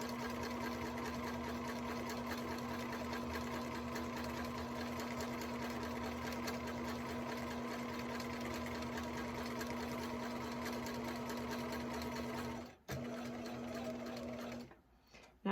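A sewing machine stitches a T-shirt pillow in a steady, fast, even run of needle strokes close by, with no talk, then stops abruptly near the end, leaving a short pause and a faint click.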